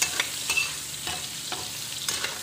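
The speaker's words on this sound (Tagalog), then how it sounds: "So, iprito kong bahagya itong squid balls." Squid balls, meant for a sotanghon noodle dish, fry lightly in a pan with a steady soft sizzle and a few sharp stirring scrapes spaced through the short stretch, close and moderately loud with no voices.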